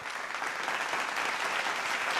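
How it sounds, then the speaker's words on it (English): Warm, steady applause from a pageant audience fills the space evenly, a dense wash of clapping hands that neither builds nor fades. "So a nice, warm round of applause for Winnie Sue"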